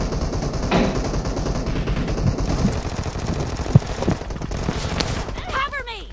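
Rapid SLR rifle gunfire in the PUBG battle royale game, with repeated sharp shots over a dense, noisy in-game soundscape, all beneath excited talking.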